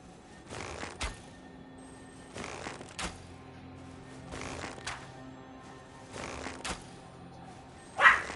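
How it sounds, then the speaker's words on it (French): A dog barks in several short, spaced bursts, moderately close, with a sharper, louder yip near the end and no talking over it. "C'est ma chienne qui jappe pour aucune astuce de raison."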